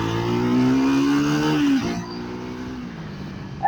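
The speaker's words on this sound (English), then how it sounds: "So we'll just try to rev it." A Triumph Tracker 400 motorcycle's 398cc single engine revs up, holds a steady high drone for over a second, then drops back to a lower idle, loud and close.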